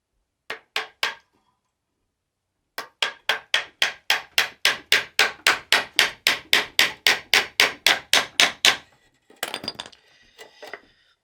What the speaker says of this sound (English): So now I'll be hammering in the mesh